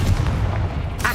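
A Confringo blast spell fired in the video game Hogwarts Legacy, one short booming burst lasting about a second, loud and close with a brief bright crackle at the end.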